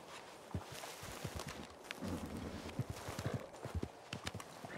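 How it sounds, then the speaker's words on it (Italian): Horse hooves clip-clop unevenly in a video game, with a thicker run of hoofbeats midway over a steady background hum. "Ma dai, un cavallo scemo."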